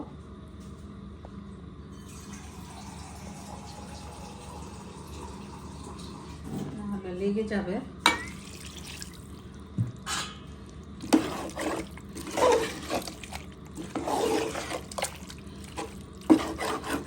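Water is poured into a cooking pot of simmering cow tripe (bhuri), producing splashing, gurgling pours in several bursts alongside clinks and pot handling, with a voice speaking briefly.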